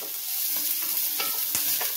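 Onions and peppers sizzle in a hot cast iron pot, a steady frying hiss with a few sharp crackles and stirring scrapes, close and alone.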